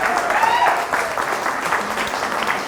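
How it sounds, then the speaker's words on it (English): Audience applause at an Enterprise Challenge launch event, a steady wash of clapping throughout with a brief whistle-like tone near the start and some voices mixed in. "Give him a big round of applause."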